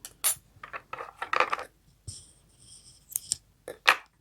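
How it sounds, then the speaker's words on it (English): Scissors cutting yarn during a crochet project, with a few sharp close snips and small metallic clicks in quick succession, quiet surroundings. "and cut your yarn."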